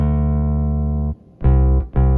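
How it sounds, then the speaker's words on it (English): Sampled Rickenbacker bass from Native Instruments with its high end rolled off plays a long sustained low note, then two short, punchy notes after a brief gap, alone and up front. "This is a Rickenbacker bass from Native Instruments as well."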